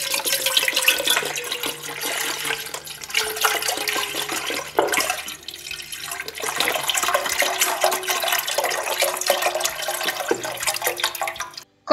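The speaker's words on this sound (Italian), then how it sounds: "Una pentola capiente, versiamo tutto il latte." Milk pours steadily into a large pot in a kitchen, a continuous liquid splashing and trickling that shifts in pitch as the pot fills, close and fairly quiet with no talking.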